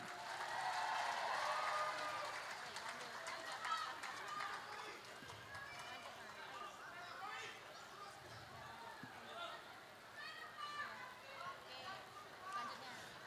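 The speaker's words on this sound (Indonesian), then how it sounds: "Mari kita beri tepuk tangan yang meriah, dan dengan demikian Rakernas Gamki 2023 secara resmi dibuka." A crowd applauds at the official opening of the GAMKI 2023 national working meeting. The dense, fairly distant clapping is loudest at first and then thins out, with voices murmuring underneath.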